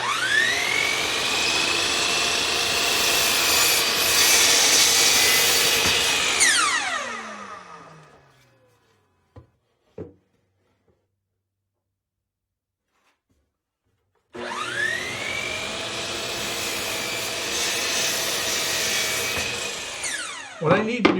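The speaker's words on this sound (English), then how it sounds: "I'm just going to trim them down to the final width here on the miter saw." A miter saw spins up and cuts through glued-up wood, a loud steady whine for several seconds that winds down, then a pause with small clicks before a second full cut.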